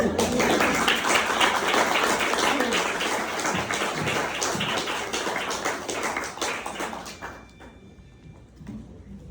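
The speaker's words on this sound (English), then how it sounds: "Can we have another just huge round of applause?" Audience at a Chautauqua talk breaks into sustained, dense applause for several seconds, then tapers off into scattered claps near the end.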